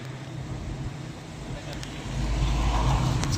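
A car engine rumbles steadily along a hilly road as one of three vehicles driving in a line toward a hill temple, the drone swelling louder and nearer toward the end.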